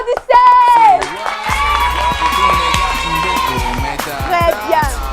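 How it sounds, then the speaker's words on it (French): Audience at a Christmas show cheering and clapping, a loud continuous crowd roar with whoops and scattered shouts over several seconds, following a brief voice at the start. "Applaudissez quand même pour vous."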